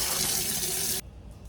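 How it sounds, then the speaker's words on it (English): Two cups of water pour steadily into a pot of quinoa as a broad, continuous splashing rush, then it cuts off abruptly, leaving a quiet room. "Add 2 cups of water."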